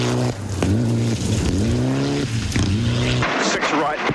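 Rally car on a New Zealand Rally Championship stage at Rally Hawkes Bay, its engine revving hard and rising through gears with tyre noise as it slides in oversteer, loud and close, with a commentator talking over it.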